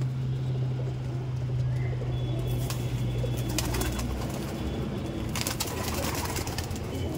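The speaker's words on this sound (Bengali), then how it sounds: "দেখুন পায়রা দেখুন, এগুলো আন্ধ্রা আছে আর হারুকুদু লাইনের পায়রা আছে" Racing pigeons of Andhra and Harukudu lines at a loft, giving faint soft cooing amid low outdoor background hum, with a few brief rustles or flaps and distant traffic.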